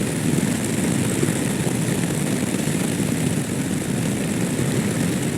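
A Yamaha SMAX scooter engine drones loud and steady at constant throttle through a sweeping turn, with no change in pitch, over a constant rush of wind.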